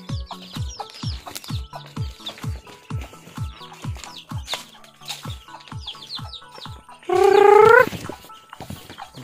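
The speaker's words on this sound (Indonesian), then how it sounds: "Inilah ayam-ayamnya." Several chickens cluck in a steady, rhythmic series of short calls nearby, with one loud, drawn-out squawk breaking in near the end.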